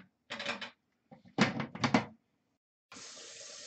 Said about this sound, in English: I gotta rinse my tip off.